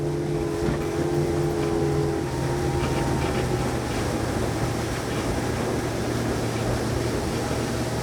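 A Saxdor 270 GTO motorboat runs at speed on open water after a turn, with a steady, loud engine drone and tonal hum over constant hull and water rush, holding level throughout.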